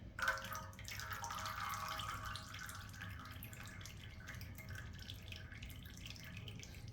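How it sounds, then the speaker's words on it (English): Motor oil drains from a Honda XR250 into a drain pan, a steady soft liquid trickle and dripping that keeps on without a break for the whole stretch, faint and close, with no talk over it. "There'll be some oil come out. Pull that loose. Let her drain."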